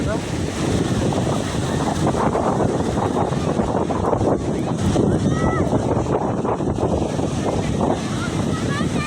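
Big sea waves surge and break on Puri beach in Odisha, a loud, steady roar of surf with heavy wind buffeting the microphone throughout.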